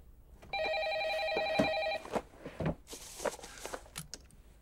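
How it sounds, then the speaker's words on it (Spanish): Telephone in an office rings with an electronic warbling tone lasting about a second and a half, followed by shuffling footsteps and small handling clicks nearby at moderate loudness. "Teléfono."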